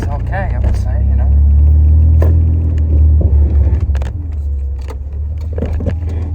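Modified BMW E30 fitted with an E46 engine driving on the road, a loud steady engine rumble with rattles and jangling inside the cabin, a voice briefly heard over it.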